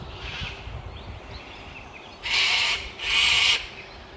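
Birds call outdoors in Australia: two loud, harsh cockatoo screeching bursts near the end stand out over a background of fainter, distant chirps from crows, swallows and small songbirds.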